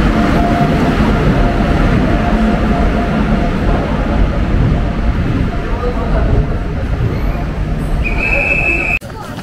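The Kirandul Express stands at Araku railway station at night, a loud continuous low rumble of the train with mechanical hum close by, under background crowd babble, and a brief high tone near the end.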